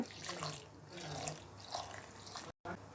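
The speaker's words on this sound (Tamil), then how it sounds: "தண்ணியை இதில் ஊற்றிக்கலாம்" Water splashes and gurgles as it is poured into a grinder with soaked rice, close and continuous with small bubbling surges, briefly cutting out near the end.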